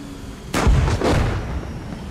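A frag grenade goes off in a tank video game, a sudden loud blast followed by a second heavy thump and a rumbling tail that fades out.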